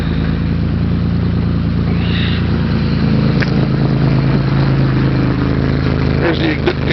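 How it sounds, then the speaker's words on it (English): A built Ford 300 inline six engine, paired with a ZF five-speed, runs steadily on a cool morning, a loud, even exhaust rumble close to the microphone with no pauses. "There's the exhaust note."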